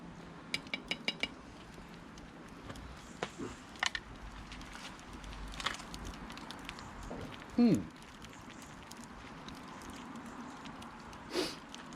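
Camp fire chilli is stirred in a pot outdoors, with faint scraping and light metallic clinks of a utensil against the pot over soft background noise.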